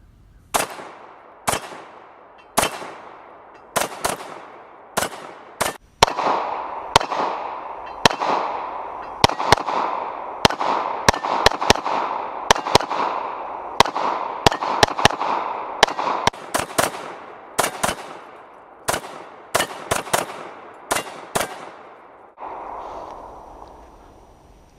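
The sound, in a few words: FN FNS 9 handgun firing a 17-round magazine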